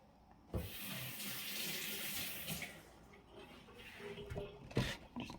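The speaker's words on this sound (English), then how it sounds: "Just rinsing my hands because I was just touching that" Water runs from a kitchen tap as hands are rinsed, a steady close splashing stream with a few louder splatters and faint clinks in a home kitchen while cooking stew.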